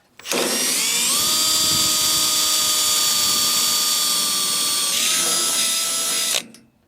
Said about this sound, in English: I'm gonna grab my drill and I'm gonna drill a couple holes in it